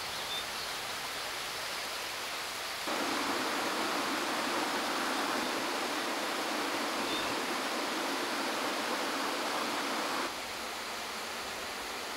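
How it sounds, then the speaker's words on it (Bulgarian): Orpheus waterfall, the largest in a canyon in Smolyan District, over 60 metres tall with water falling in separate slow streams, gives a steady broadband rush that swells louder in the middle stretch, with no voices. "Най-големият водопад от каньона е наречен Орфей."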